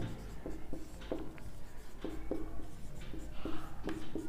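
Pen strokes writing out digits on paper or a board during a math lesson, a series of short scratchy taps and strokes in uneven rhythm, close and moderately loud with no talk over them.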